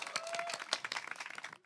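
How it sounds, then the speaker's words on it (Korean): Applause from the audience at an outdoor street busking show in Suwon: a dense patter of clapping, close and fairly steady for a moment, then cutting off sharply near the end. "따뜻한 박수 부탁드립니다."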